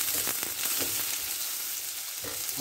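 Garlic sizzles in hot olive oil in a pan, a steady close crackle with a few stirring scrapes.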